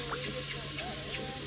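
Spices tempering in hot oil for a Gujarati dry moong dish in a home kitchen, a steady close sizzling hiss with soft crackles running throughout.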